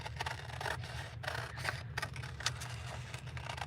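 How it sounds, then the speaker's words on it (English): Scissors cutting out a paper envelope, a steady run of close, soft snips and scraping paper with a low hum underneath. "So I'm going to go ahead and cut out"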